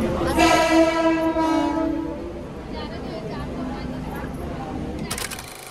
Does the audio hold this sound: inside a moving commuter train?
yes